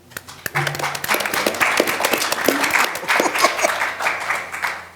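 An audience at a mock presidential debate session at the Hilton Chicago breaks into applause, dense clapping that swells quickly and holds strong before thinning out, with a brief voice near the start.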